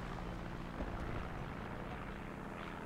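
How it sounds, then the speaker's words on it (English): Aircraft engines drone overhead during a War Thunder battle, a steady broadband roar lasting the whole moment with no speech over it. "There are so many planes right now."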